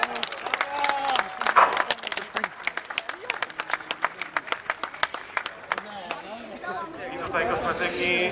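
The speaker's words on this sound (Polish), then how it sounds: "Brawa jeszcze raz!" Spectators at a Pruszków freedom run applaud the women's race winners, sharp distinct claps from a small crowd in an uneven rhythm, with chatter and voices mixed in and a swell of cheering near the end.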